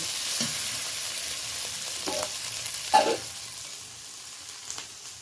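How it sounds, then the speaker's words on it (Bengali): Ginger paste is stirred and sizzles in a pan for a tapse fish curry, with a steady close frying hiss and a few occasional scrapes of the spoon against the pan, one louder around the middle. "আদা বাটা দেওয়ার পরে একটু বেশ ভালো করে নাড়াচাড়া করে নিচ্ছি"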